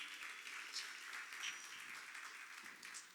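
A church congregation claps in praise during a worship service, a short burst of brisk, crowded clapping at moderate volume that continues evenly throughout.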